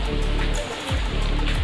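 Steady rushing water flows nearby at Pradhanpath Waterfall beside a temple in Deogarh, a continuous close wash of stream noise with low rumble throughout, no voices.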